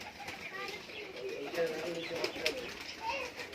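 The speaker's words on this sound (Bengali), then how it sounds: "প্রচুর পায়রা" Domestic pigeons coo softly in a Giribaz high flyer loft in Murshidabad, with adults, eggs and chicks present; low, continuous murmuring coos carry under a voice talking nearby.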